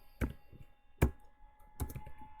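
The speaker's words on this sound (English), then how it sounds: "typing too quickly for my own good" Fast typing on a computer keyboard, heard as three quick clustered bursts of clicking keys, close and fairly quiet, separated by short pauses.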